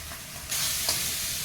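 Onion, garlic and ginger with chilli, coriander and cumin powders sizzle in a pan; a sudden loud hiss bursts in, likely as a little water hits the hot oil, then a steady close frying crackle.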